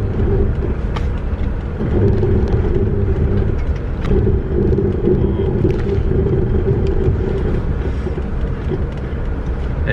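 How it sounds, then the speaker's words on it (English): Camper van on summer tyres rolling downhill with ABS engaging: a loud, steady interior rumble of road and engine noise with faint intermittent clicks and knocks throughout. "ABS is kicking in a lot, right?"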